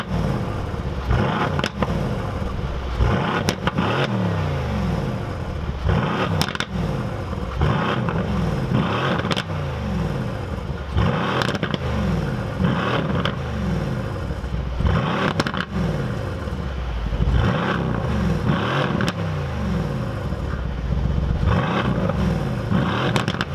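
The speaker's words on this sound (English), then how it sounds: "this motor is also connected to an AMG sports exhaust system" A 2017 Mercedes-AMG C63 S Coupe engine with an AMG sports exhaust revs repeatedly in sharp bursts, loud and close, with crackling pops between the blips.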